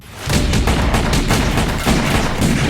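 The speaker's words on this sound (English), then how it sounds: "Bullets ricochet off the walls." Rapid bursts of gunfire ring out in an action scene, loud and close, with sharp repeated shots and rumbling echoes as if off surrounding walls, continuous for a couple of seconds.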